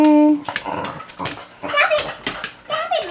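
A dog in a home kitchen gives a high, thin whine and then a run of short excited yips and whimpers, close and fairly loud.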